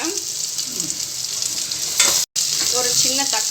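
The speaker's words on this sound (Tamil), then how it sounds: "இது எல்லாத்தையும் நல்லா வதக்கிக்கலாம்" Onions and sour greens (puliccha keerai) sautéing in a pan give a loud, steady sizzle and hiss, with scraping stirs breaking through and a split-second dropout midway.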